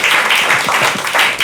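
Studio audience applause on a comedians' quiz show, a brief dense burst of clapping, loud and close, with no voices over it.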